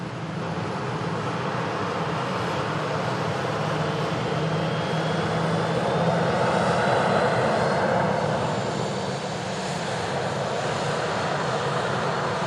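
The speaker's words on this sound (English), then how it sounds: "This Ryanair just taxiing past us from Dublin." A Ryanair airliner from Dublin taxis past at an airfield, its jet engines giving a steady broadband roar that swells slightly midway as it passes nearby, continuous throughout with no talk.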